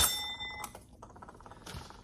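A bright shop bell in a record shop rings with a sharp clang and rings out, then a second fainter strike sounds near the end, with no voices.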